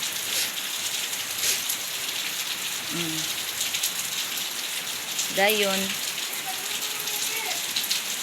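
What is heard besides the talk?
light rain falling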